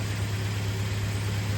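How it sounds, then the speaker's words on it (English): A first-generation Toyota Tacoma with the 2.7L engine and its battery light on idles steadily, giving off a constant low, even hum with a faint wash of hiss and no breaks. "Start engine, okay."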